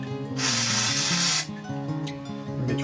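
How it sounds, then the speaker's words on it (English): WD-40 spray lubricant hisses in one loud, close burst of about a second as it is sprayed into the gap between a solar battery cell and its casing, over a steady low hum. "and then spray WD-40"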